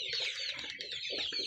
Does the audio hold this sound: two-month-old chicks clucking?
yes